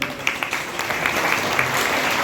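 Applause from a French training-session audience cheering an administrator, steady, moderately loud clapping from a room of people with a few sharper individual claps standing out.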